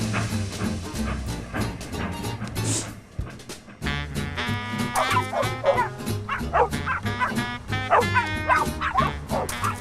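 Dogs barking and yipping in a story sound effect, several excited barks and whimpers in quick irregular bursts over a musical background, with a brief lull before the barking picks up again more busily.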